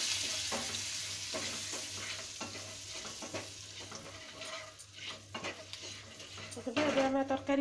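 A potato and mango curry, made without onion or garlic, is stirred as it fries in a pan, giving a steady sizzle with repeated scraping strokes. A sharper burst of sizzling comes near the end.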